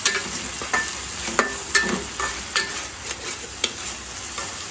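Dried chillies fry in hot oil in a pan, giving a continuous sizzle broken by repeated scraping strokes of a stirring spoon, close and fairly loud.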